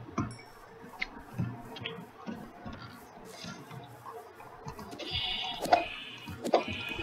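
Sheep bleat in the Minecraft video game, several short calls rising over a busy background of game sounds and ticking, with louder bleats toward the end.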